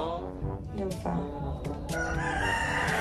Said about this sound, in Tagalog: Maingay na yung manok, bes!